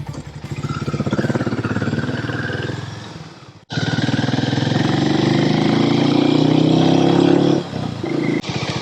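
A Harley-Davidson X440 single-cylinder 440 cc engine thumps close by at a steady beat, cuts out briefly, then restarts and revs up in a rising drone before easing back.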